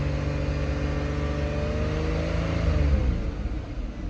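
A vehicle engine revs up during a crankshaft position sensor test, a steady mid-pitched hum that climbs slightly in speed near the end, heard close with no talking.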